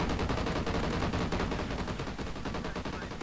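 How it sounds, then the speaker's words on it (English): A sentry gun in the Gold Rush map of a shooter video game fires rapid, dense automatic bursts, a continuous stutter of loud shots over a few seconds, with no speech audible. "Oh god, that's a sentry gun!"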